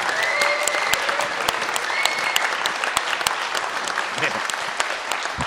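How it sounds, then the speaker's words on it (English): Audience applause at an event, steady and dense clapping from a crowd that holds at an even level throughout, with a few voices calling out over it. "So please give Dan a big round of applause."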